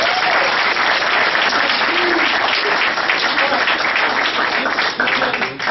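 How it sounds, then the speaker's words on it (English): A big audience applauds its teachers during a guest speaker's talk, producing loud, dense, continuous clapping that keeps going evenly from start to finish with no voices over it. "Let's give our teachers a big round of applause."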